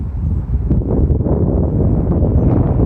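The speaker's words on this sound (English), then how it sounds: "the wind is really strong this morning" Strong morning wind buffets the microphone outdoors beside a garden, a continuous loud low rumble with gusty surges and no talking.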